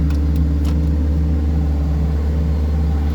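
Steady, close engine drone of a 1986 Chevy Chevette holding a high idle, an even rumble with no revving or breaks, heard alone without talk.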